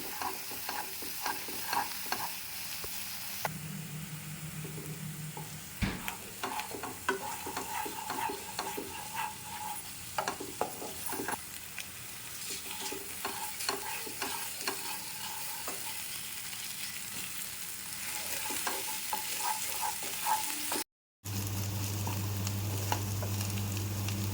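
Masala of coconut and poppy seeds fries gently on a low flame, a soft continuous sizzle with frequent small scrapes and taps of stirring, close but quiet, with one brief dropout near the end.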